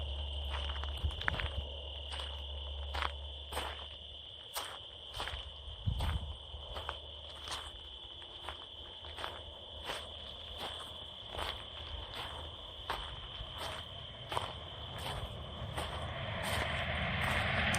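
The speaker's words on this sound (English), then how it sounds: "let you guys listen to the crickets in the bushes for a second" Crickets in roadside bushes at night in Oregon give a steady high trill, joined by regular crunching footsteps close by, with a low rumble at the start and end.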